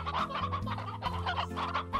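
Painted hens in the farming game Slime Rancher cluck in repeated, close, fairly soft bursts over a low steady musical backdrop.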